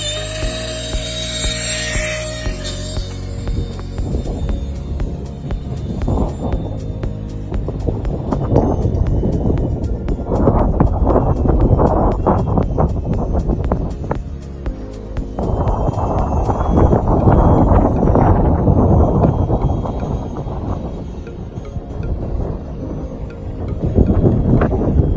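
A MinimumRC T-45 radio-controlled model jet revs up and takes off, its electric motor whining in loud, surging waves, with steady wind noise buffeting the microphone throughout.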